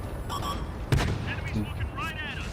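A tank's main gun fires once with a sharp, heavy boom in a tank battle video game, followed by lighter in-game clatter while someone speaks over the action.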